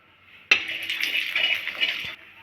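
Mustard oil poured into a pan makes a sudden liquid rush that holds steady for under two seconds and then stops, close and moderately loud.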